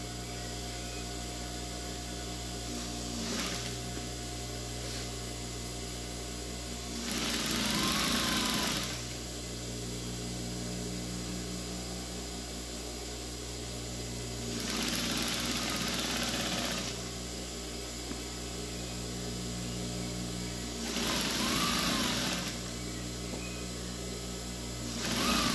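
A sewing machine stitching a dish towel runs in a steady mechanical whir, with louder bursts of faster stitching roughly every seven seconds, close and clear, with no talking.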